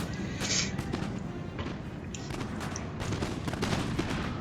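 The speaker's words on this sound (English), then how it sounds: "we have the Young Guard here firing upon the British forces, and if we can kill the Duke of Wellington" Musket volleys crackle in Napoleon Total War during a Waterloo battle as the Young Guard fires on British forces, a dense, continuous rattle of overlapping shots over a steady roar of battle noise.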